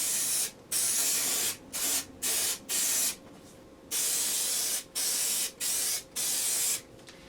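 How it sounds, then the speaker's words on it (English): Headliner spray adhesive hissing in repeated bursts onto foam during a car upholstery job, about eight sharp spurts of varying length separated by short pauses, close and loud with no talking. "then you have to spray the foam"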